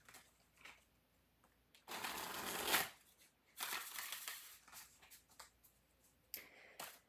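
A tarot deck is riffle shuffled three times in a row, each pass a crisp burst of fluttering card clicks, close up in a quiet room, with soft handling sounds in the pauses.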